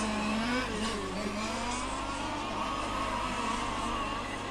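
Large-scale RC race cars scream down the main straight at the EFRA Large Scale Track European Championships finals, several small engines revving hard together in a loud, continuous buzzing drone with shifting pitch as they pass close by.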